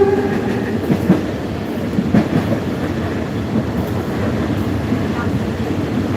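Train passing near Khlong Tan station in Bangkok, with an oncoming train going the other way; a steady rumbling rail roar with faint rhythmic clatter, continuous and fairly loud throughout.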